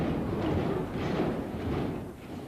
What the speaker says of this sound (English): The scariest video of the earthquake was when the Space Needle was shaking. You can even hear it rumbling.